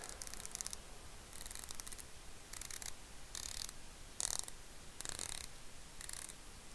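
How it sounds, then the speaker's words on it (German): Close, quiet bursts of rapid ratcheting clicks, about seven in all, separated by short pauses as the bezel of a Heimdallr SeaGhost watch is turned. "zwei Stellen, wo die Lünette im Prinzip den Klick macht"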